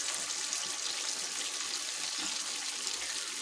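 Steady hiss and crackle of a vegan alcapurria, a Puerto Rican dumpling, frying in hot oil on low heat, a continuous soft sizzle without talk.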